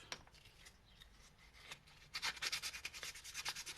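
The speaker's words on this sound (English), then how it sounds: "So then I just got to keep smoothing it out until the whole area where the patch is going to cover is scuffed." Sandpaper scuffs the rubber around a hole in a flat tire to prepare it for a patch: soft steady rubbing, then a run of faster, louder back-and-forth strokes close to the mic.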